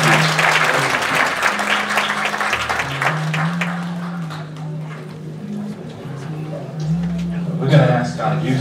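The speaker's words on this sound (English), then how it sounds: "Congregation, can you give them a hand clap again?" A church congregation at a Sunday service gives a round of hand claps, with dense applause at first that fades over several seconds under a steady low organ or keyboard tone, with speech over the top.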